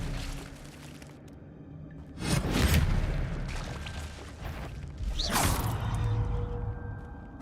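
Spell-casting effects from the Hogwarts Legacy video game, with two loud whooshing bursts that swell and fade roughly three seconds apart over steady game ambience. No one talks.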